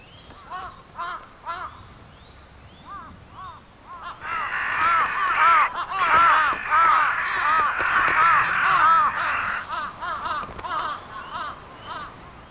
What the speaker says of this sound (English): Jungle crows are usually first to a victim of the cold, but their noisy squabbling is a dead giveaway to one so cunning